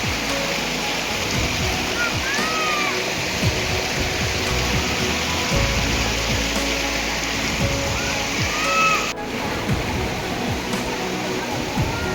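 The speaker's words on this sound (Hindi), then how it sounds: "दूध धारा वाटरफॉल पर पहुंच चुके हैं" Dudh Dhara waterfall on the Narmada River at Amarkantak, a continuous dense rush of falling water close by, with a few faint voices over it.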